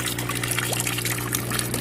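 Water trickling steadily from a small spouting figure into an outdoor aquaponics pond, a continuous close splashing wash with a low steady hum underneath and no talk.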